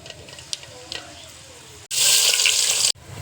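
Whole spices, black cardamom and cinnamon, dropped into hot mustard oil for beef curry, giving a sudden loud hiss and crackle for about a second after quieter kitchen clatter.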